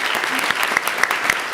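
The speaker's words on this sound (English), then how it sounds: "Let's give them a round of applause." Applause at a school board meeting for the district teachers of the year, a moderate room of people clapping with several distinct sharp claps standing out near the microphone, brief and steady.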